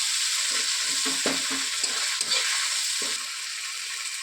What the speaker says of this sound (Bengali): ভালো করে কড়াইতে নাড়িয়ে নেব।